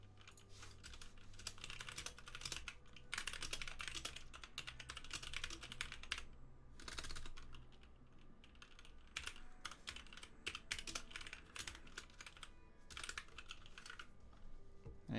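Steady typing on a computer keyboard while entering program input, a dense run of close clicking keystrokes with brief pauses, no voices.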